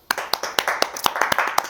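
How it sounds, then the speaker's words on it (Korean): A single person claps hands at a steady, even rhythm, about eight crisp, close claps in quick succession. "이제 이런 건 박수 한번 주시죠."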